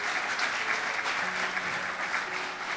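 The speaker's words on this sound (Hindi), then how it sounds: "जोरदार तालियां खुदावंद के लिए।" A church congregation claps for God during a Hindi-language service, a steady, dense wash of applause with a faint held tone beneath it.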